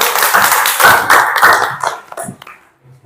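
Classmates in a school lesson clap for a student who stands to give a summary, a short, loud burst of hands close by that thins out and stops after about two seconds.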